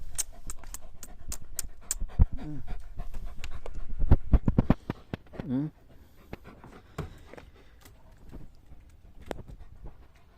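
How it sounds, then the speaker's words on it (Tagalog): A dog pants and snuffles close by in short bursts, with clicks and thumps of movement; a person speaks briefly in between. "Malaking aso, oh."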